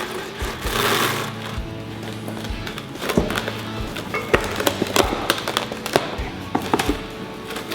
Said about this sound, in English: And then we're gonna take some cling wrap.